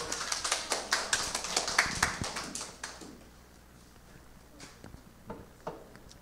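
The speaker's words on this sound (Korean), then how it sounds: "우연이에게도 박수." A few children clap for a classmate at a children's Sunday school worship service, a short burst of scattered, uneven claps at close range that thins out and fades, leaving only a couple of stray taps afterward.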